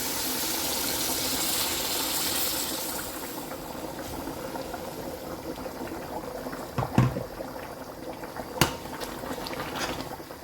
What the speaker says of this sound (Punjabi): ਪਾਣੀ ਨੂੰ ਉਬਾਲ ਆ ਗਿਆ ਵੇ।